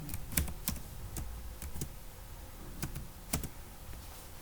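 Computer keyboard typing Java code, a quiet, close series of irregular key clicks with short pauses between bursts, no voices.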